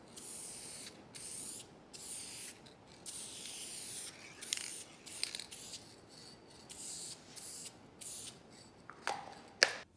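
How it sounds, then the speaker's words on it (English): Spray-on polyurethane clear coat hissing from an aerosol can over a rustic wood clock made from scraps, in a series of short bursts with brief pauses between them, fairly close and steady. "And now I gotta finish it with some spray-on polyurethane."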